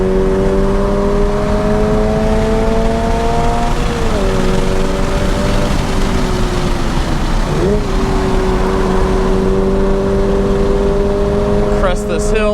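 A 2022 Subaru BRZ with a manual gearbox on Michelin Pilot Sport 4 summer tires laps the Lime Rock Park track, its engine holding a steady loud drone with pitch dips at gear changes, under a driver talking throughout.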